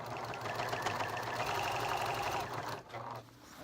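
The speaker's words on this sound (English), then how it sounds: "Hopefully the sewing machine works better. Put it down, and now I sew." Sewing machine stitching fabric for kids' reversible pants, a rapid steady mechanical chatter of the needle running close and continuous for about three seconds, then slowing and easing off.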